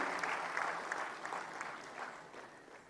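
A crowd at a government event applauds village heads being honoured, a dense, steady wash of clapping heard from a distance, fairly faint and continuous throughout.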